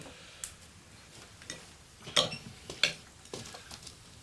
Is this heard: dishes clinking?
yes